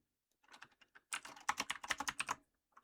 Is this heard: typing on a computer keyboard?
yes